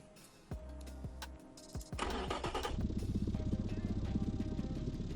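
A few clicks and a starter whir, then a simulated Honda K24 engine catches and idles with a steady rhythmic chug, fairly close.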